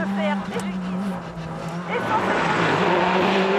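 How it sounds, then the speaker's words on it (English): A 2012 WRC rally car takes a corner at the Monte Carlo Rally, its engine droning loudly and rising in pitch as it powers through, while a commentator talks over it. "Di Castelli doing the corner"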